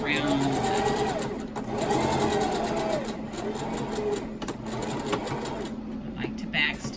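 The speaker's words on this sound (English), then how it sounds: "I'm just going to begin to stitch and back stitch so it locks it into place, and go all the way around" A sewing machine stitches and back stitches around a homemade fabric face mask, its needle chattering in steady rhythmic bursts with short pauses and speed changes, running close and loud with a voice speaking over it.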